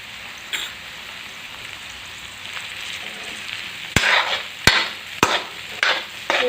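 Cooked mixed vegetables with turmeric are stirred in a hot pan for veg pulao: a steady sizzle runs throughout, then a spatula scrapes and knocks against the pan in several sharp, close strokes over the last few seconds, with no talking.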